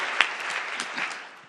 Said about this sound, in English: a round of applause for our debaters here.